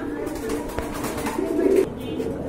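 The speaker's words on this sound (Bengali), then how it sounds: "এটা পাল্লা লাইনের কবুতর, অলরেডি পাল্লা ছাড়া আছে আর অরিজিনাল ইন্ডিয়ান" Indian palla line pigeons coo in a low, continuous rolling murmur at close range, swelling briefly near the end, against a busy background.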